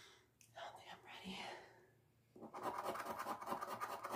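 A California Lotto scratch-off ticket being scratched: close, rapid scraping strokes in short bursts, with soft whispered talking in between.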